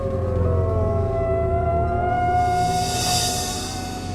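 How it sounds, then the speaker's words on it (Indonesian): A wolf howls in a werewolf film playing from a phone, one long drawn-out gliding howl that carries on fairly loudly and steadily with no voices over it. "Tapi itu ada suara lolongan serigala, Jul."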